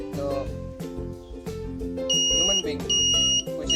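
An Arduino-built PIR motion-sensor security alarm sounds in short piercing high beeps in repeated bursts, under a person talking.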